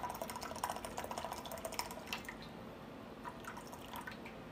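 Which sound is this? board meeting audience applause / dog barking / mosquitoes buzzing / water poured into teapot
water poured into teapot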